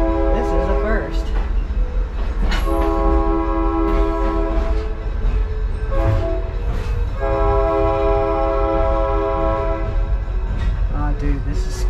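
Heard from the top of a moving caboose at a Georgia train museum, a train gives loud, close, sustained horn blasts in two long bursts over a constant rolling rumble, with voices in between.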